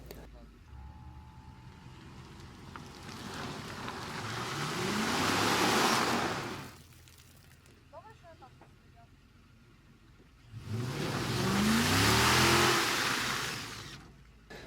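An SUV engine, Lexus GX 470 or VW Touareg, revs hard off-road in two long rising-and-falling surges separated by a quieter idle, with tyre and terrain noise, heard from nearby.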